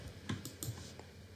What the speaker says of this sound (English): you just need to press minus and plus on your keyboard